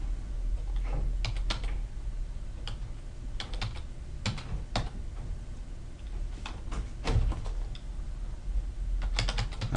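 Username being typed on a computer keyboard: irregular bursts of close key clicks, some keys in quick runs and others spaced apart, with no talking.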